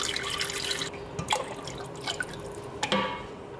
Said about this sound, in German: gebe ich nach und nach mehr Wasser hinein und bringe meinen Tomatenmark oder meine Soße auf die gewünschte Konsistenz